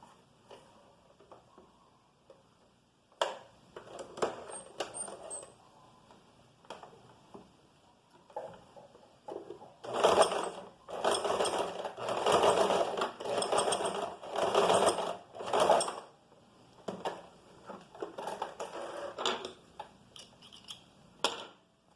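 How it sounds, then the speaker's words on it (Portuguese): A sewing machine stitches fabric and runs a backstitch over a pinned seam, with short bursts of rapid mechanical whirring and ticking that grow into a steadier, louder run of repeated stitching in the second half. "a gente vai entrar com a máquina, passar a máquina aqui, dando um retrocesso"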